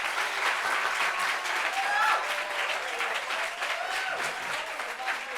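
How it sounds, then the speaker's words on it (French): Sustained clapping from a talk show studio audience, close and full, swelling slightly midway before easing off, with faint crowd murmur beneath the applause. "Applaudissements."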